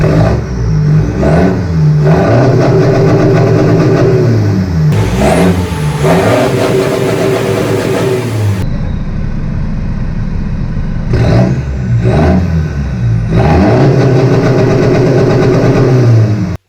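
A loud Mercedes 2.0 CDI diesel car engine revs hard and bounces repeatedly off a hard cut rev limiter, the stuttering cut-outs broken by a brief idle before more rapid revving.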